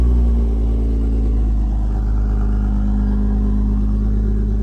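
A tuned car engine idles and revs after a cold start, a loud, deep continuous rumble close to the microphone with a low droning exhaust note and no talking.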